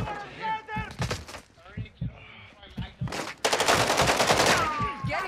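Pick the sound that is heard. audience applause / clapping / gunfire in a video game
gunfire in a video game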